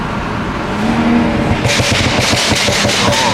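A BMW 540i with a B58 engine and catless downpipe fires off a rapid string of sharp, gunshot-like exhaust pops and crackles over a running engine, loud and close, following a revving engine note.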